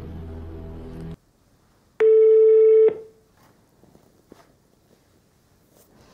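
A telephone call being placed: one loud, steady dial tone lasts about a second after a short burst of other sound, then faint clicks and near silence follow.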